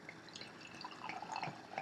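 Barrel-aged Alesmith Speedway stout poured into a glass, a faint, close trickle and glug of thick liquid with small dripping splashes, rising slightly toward the end, no talking.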